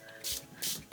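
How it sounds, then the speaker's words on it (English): Water spritzed from a spray bottle during a watercolor art session, two quick close hissing sprays in a row, each a fraction of a second long, with a faint third start at the end. "So I'm spraying in the middle."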